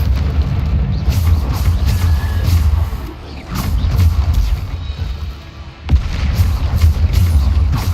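Bombarda spell explosions in the Hogwarts Legacy video game, heavy booming blasts and rumbling impacts repeating through the clip, loud and close, with a sharp burst near the end and no talking.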